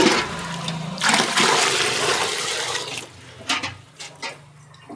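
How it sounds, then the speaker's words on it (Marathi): Water pours out in a loud, steady gush for cows to drink on a farm, then thins into a few splashes and trickles toward the end, with no talking. "तर गायांना पाणी पाजून घेते मी."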